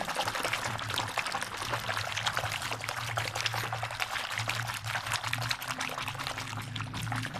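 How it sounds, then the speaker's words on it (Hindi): Detergent powder pours into cold water, giving a steady, hissing trickle and splash that runs continuously, with a low hum underneath. "आज का बनाया हुआ डिटर्जेंट पाउडर डालते हैं।"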